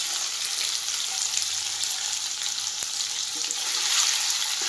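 Paneer frying in a pan for a chickpea curry, a steady bright sizzle that holds evenly throughout, close and fairly loud with no talking.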